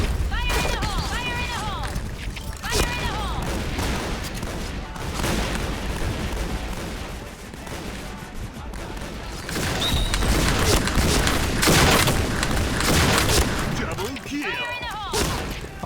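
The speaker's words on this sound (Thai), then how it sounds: "ยิงตุ้มตั้มตุ้มตั้มเลยอ่ะ" An M1014 shotgun fires repeatedly in the online shooter Point Blank, loud blasts layered with game effects and music while someone talks over the action throughout.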